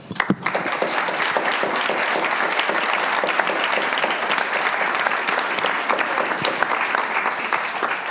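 An audience at an international security conference gives a panel of experts dense, sustained applause that starts abruptly and holds steady at full strength for several seconds with no talking.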